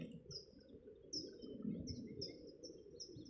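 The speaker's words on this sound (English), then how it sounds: "He's very happy, this hawk." A hawk calls outdoors in short, high, thin whistled cries repeated at irregular intervals, moderately distant over a steady low rumble of wind or background noise.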